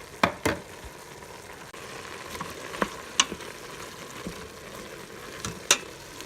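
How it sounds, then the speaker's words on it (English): Onions and vegetables fry in a pan with a steady sizzle, punctuated by repeated sharp scrapes and taps of a utensil stirring and scraping the pan, close up with no talking. "I'm going to scrape this stuff down and then stir"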